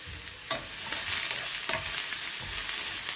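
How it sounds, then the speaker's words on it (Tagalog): Shakshuka is stirred in a frying pan over a steady sizzle, with several distinct spatula scrapes against the pan at a loose rhythm, close and alone. "Haluin po natin"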